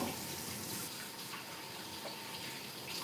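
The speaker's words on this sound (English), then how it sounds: "let me wash my hands" Tap water runs steadily into a sink as hands are washed, a faint, even hiss lasting throughout with no talk.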